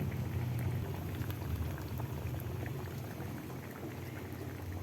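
Tilapia simmers in a pot of boiling coconut milk with pechay, a dense, continuous bubbling and gurgling that stays close and even throughout, with no talking.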